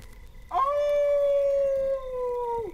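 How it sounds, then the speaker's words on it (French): A single wolf howls in the mountains, one long, loud, steady sustained note that rises sharply at the start and falls away at the end, with no voices. "Puis ce fut un hurlement dans la montagne."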